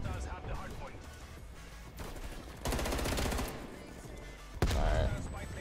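Rapid enemy gunfire in Call of Duty: Black Ops Cold War, loud bursts of automatic shots with a sharp heavy burst near the end, under game background noise.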